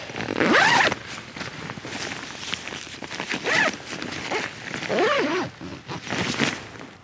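A bivy bag zipper pulled closed in several separate strokes, loud and close, with soft rustling of fabric between pulls.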